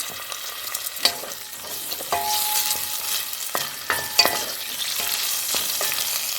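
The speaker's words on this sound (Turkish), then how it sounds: "Evet soğanımı ilave ediyorum ve kavurmaya devam ediyorum." Chopped meat and onions sizzle steadily in olive oil in a pan, with occasional scraping and clinks of a spoon stirring through the mixture at close range.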